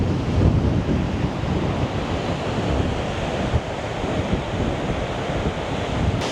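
Steady roar of surf and gusting wind at a New Zealand beach, broadband wave wash with wind buffeting the microphone, continuous and loud with no voices.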